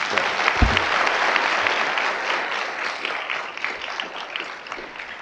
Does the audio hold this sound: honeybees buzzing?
no